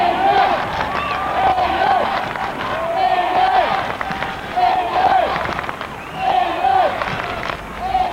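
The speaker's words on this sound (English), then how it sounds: "the crowd is really going now" A crowd cheers and shouts at a Taekwondo match in England, loud and rolling in swells, with chanting-like calls repeating over a busy hall and voices talking among it.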